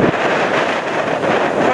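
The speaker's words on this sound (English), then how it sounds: "Because it's a bit windy." Strong wind buffeting the microphone, a steady loud rumbling roar with no other sounds clearly audible.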